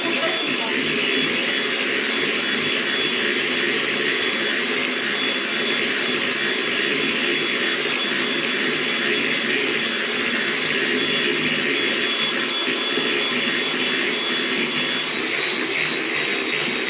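Electric mixer whipping meringue for a lemon meringue tart, a loud, steady whirring whine held without a break for the whole stretch, close up with no gaps.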